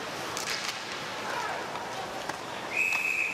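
A referee's whistle blows to stop play during an ice hockey game between Italy and Norway at the 2019 IIHF World Championship, a single sustained shrill tone cutting through the steady crowd noise near the end.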